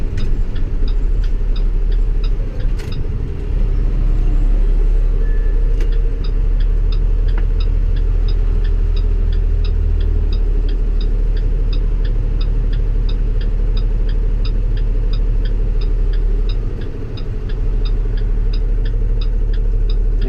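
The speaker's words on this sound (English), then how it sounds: "There's some engine fan noise too." A deep, steady Cummins diesel engine drone from an International Durastar truck, with a continuous engine fan whir and a rapid regular ticking on top, loud and close.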